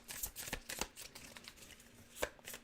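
Tarot cards are shuffled by hand close up, a series of quick, soft riffling snaps and slaps in an irregular rhythm, quiet and alone.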